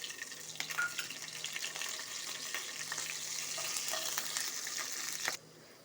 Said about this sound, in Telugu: ఆయిల్ పెట్టుకున్నానండి. కొంచెం జీలకర్ర వేస్తున్నాను. 1 ఇంచు చెక్క, 2 యాలకులు, 3 మొగ్గ ఆకు వేసేస్తున్నాను.